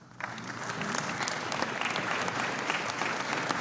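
Steady applause from a crowd, many hands clapping continuously at moderate volume after a brief quiet start.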